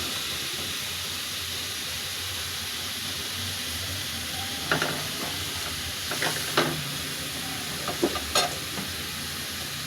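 Potato and eggplant pieces hit a hot pan while cooking a dried-fish curry, giving a steady close sizzle and hiss with a few brief stirring scrapes and clatters toward the end; no one speaks.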